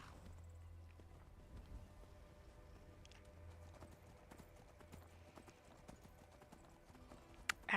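Horse hooves clip-clop in the video game Skyrim, a quiet, light, fairly regular patter of steps heard over a soft game background.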